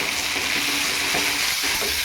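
Tomato dropped into hot oil seasoned with asafoetida for besan pithla gives a steady, bright sizzle and crackle, close and continuous, with no one talking.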